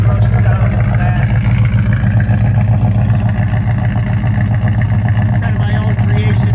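A 1968 Mercury Cougar with MSD ignition idles steadily after firing up, its throaty exhaust a loud, continuous low rumble close by.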